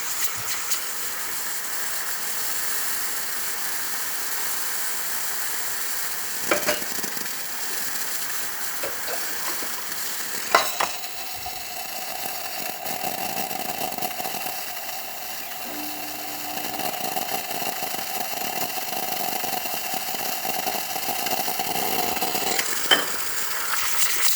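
A Gaggia Academia espresso machine running under pressure: a steady pump hum and hiss with a whining tone, a couple of brief clicks, and the drone swelling slightly louder toward the end, heard close with no voices.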